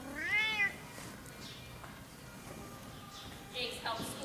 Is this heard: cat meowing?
yes